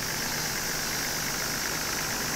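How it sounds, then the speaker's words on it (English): A Toyota Land Cruiser 70 series, a 2001 ZX with the 4200cc 1HZ diesel, idles steadily and close, a dense continuous rumble with a faint knocking rattle and no voices over it. "Okay, I'm going to switch the engine off."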